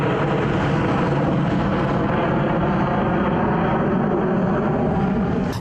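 An airplane roars loud and close in a continuous broad rumble as it flies low near an airport runway, holding steady throughout.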